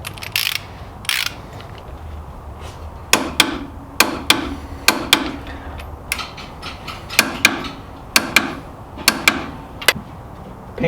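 A torque wrench tightens a brake caliper carrier on a van, giving a series of sharp metallic ratcheting clicks in irregular bursts, close and clear against a quiet workshop background.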